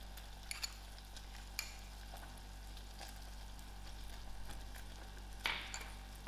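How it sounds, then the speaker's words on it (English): Caramel with a spoonful of honey melting in a pan for millionaire's shortbread, a faint low simmer under occasional soft stirring scrapes and light clinks, one louder scrape near the end. "I will continue stirring this till it's smooth."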